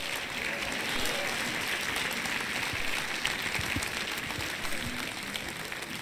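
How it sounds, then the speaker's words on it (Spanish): A church congregation applauding God after a sermon, a sustained, even roar of many clapping hands filling the room from start to finish, with faint voices mixed in. "Dale un aplauso a Dios si aprendió algo"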